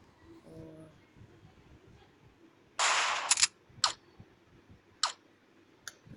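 Cartoonish gunshots from the mobile zombie-shooting game Stupid Zombies 2: a dense hissing burst followed by four or five sharp, separate cracks spaced irregularly, set against a quiet background with no talking.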